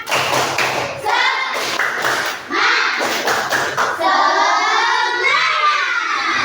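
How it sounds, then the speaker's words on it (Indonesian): Classroom children do the 'tepuk semangat' spirit clap, loud and close: rhythmic bursts of hand claps and thumps mixed with shouted chanting voices, ending in sustained group voices. "Kami lagi tepuk semangat."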